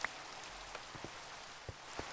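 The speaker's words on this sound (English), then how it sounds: "get us out of the rain for a little moment" Quiet, even patter of rain in the video game Minecraft, a soft continuous hiss with a few faint drips standing out, no voices over it.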